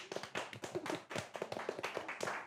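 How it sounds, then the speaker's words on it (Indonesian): A small group clapping hands in a studio at a sports talk show, a short run of uneven, close, fairly soft claps without speech. "Tepuk tangan."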